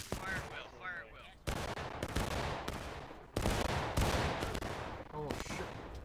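Musket volleys in the Civil War video game War of Rights crash out in loud, rolling bursts at irregular intervals, with sharp overlapping shots and faint shouted voices beneath.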